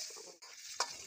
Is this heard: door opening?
no